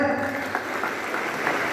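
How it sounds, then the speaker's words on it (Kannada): An audience at a stage event claps together in a brief, even burst of applause, moderately loud and continuous throughout. "ಹೊಡಿರಿ ಚಪ್ಪಾಳೆ"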